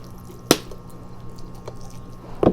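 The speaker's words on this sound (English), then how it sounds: "so we're going to just water it." A potted Japanese red maple is watered by hand: soft trickling under a quiet background, with two sharp wet splashes or squishes, one early and one at the end.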